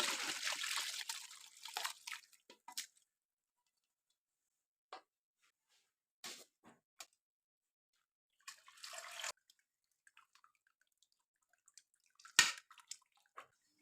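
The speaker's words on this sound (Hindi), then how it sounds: "अभी मैं ये यखनी को छान लेता हूँ।" Chicken broth being strained trickles and splashes steadily at first, then breaks into short, scattered pours and drips separated by quiet gaps.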